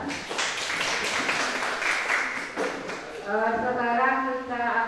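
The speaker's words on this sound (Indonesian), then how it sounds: "kita beri aplaus dulu dari kelompok 2" Classroom applause for a student group at a high school, a dense wash of clapping from many hands filling the room, fading into a voice speaking over it near the end.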